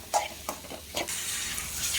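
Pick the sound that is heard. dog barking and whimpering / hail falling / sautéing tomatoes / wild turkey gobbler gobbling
sautéing tomatoes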